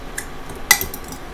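A utensil scrapes and clinks against a bowl while stirring a grated mozzarella pizza mixture, a few light, close contact sounds with one sharper clink midway.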